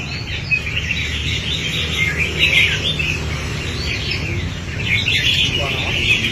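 A caged red-whiskered bulbul sings a bright, busy run of chirps and warbling phrases, loud and close, over a constant background hiss and low rumble.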